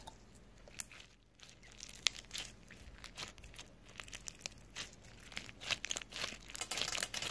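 Crunchy slime is squeezed and crinkled close up, giving faint, irregular crackling pops and crisp snaps in quick bursts against a quiet background.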